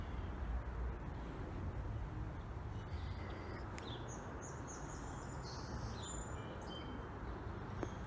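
Faint birdsong rises from an urban cottage garden, with scattered chirps and short warbling phrases over a low, rumbling background hum.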